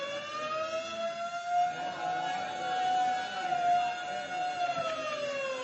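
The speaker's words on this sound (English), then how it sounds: "suddenly the quiet routine of the prison is broken by frantic bells and the shrieking wail of the siren" Prison alarm siren in a 1940 radio drama, a loud continuous wailing tone that rises and holds with harsh overtones, joined by a rough underlying clatter resembling frantic bells, heard alone without talking.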